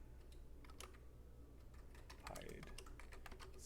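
Typing on a computer keyboard while coding, with quick irregular key clicks at low volume, some bunched into short bursts, under a faint background hum and occasional quiet talk.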